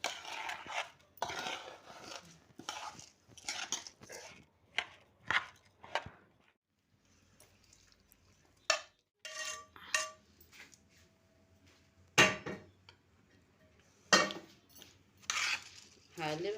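A spoon scraping and clinking in a pan while kidneys are stirred into spices, sharp irregular metallic taps in bursts with short pauses, close and fairly quiet.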